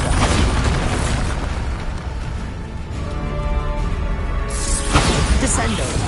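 A Bombarda spell explosion in the video game Hogwarts Legacy: a loud, dense burst of crackling blast noise filling the whole clip, with a second surge near the end, under game music and effects.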